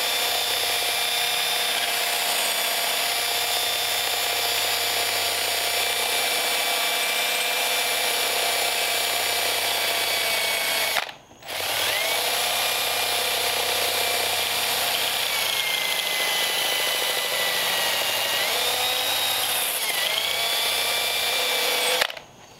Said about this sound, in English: So I can take my drill, slow speed, and very light pressure. Just work over the jaws.